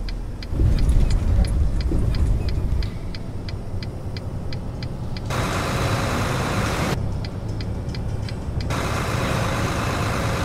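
Heavy haul Bulldog truck driving in American Truck Simulator during daytime: a steady low engine drone runs throughout, with a faint regular ticking over it early on and a brief louder burst near the start.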